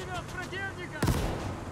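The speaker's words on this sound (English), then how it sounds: "Another mortar out there somewhere." A mortar round fires and lands with a single heavy, booming thud amid World War II combat in Call to Arms: Gates of Hell, following a stretch of speech and leaving a rumbling tail.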